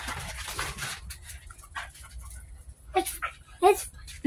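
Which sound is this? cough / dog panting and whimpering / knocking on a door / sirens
dog panting and whimpering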